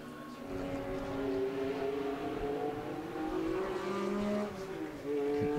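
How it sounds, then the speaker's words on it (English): A bonnetless MGB race car runs on the Silverstone Grand Prix circuit during a historic race, its engine droning steadily with shifting pitch and a brief dip, loud and fairly near amid other cars. "there's the bonnetless MGB"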